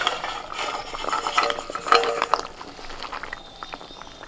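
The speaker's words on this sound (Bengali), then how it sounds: "সজনে ডাঁটা আলু আর হচ্ছে সিম একদম অর্ধেক সিদ্ধ হয়ে গেছে এখন ভাজা বড়ি দিয়ে দিচ্ছি" Fried lentil dumplings are stirred into a watery curry of drumsticks, potatoes and flat beans, with scraping and clinking spoon strokes against the pot, loudest midway then quieter.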